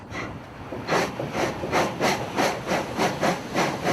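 A steamship's steam engine runs with a steady rhythmic chuffing hiss, about two beats per second, loud and close, with mechanical rumble underneath and no voices.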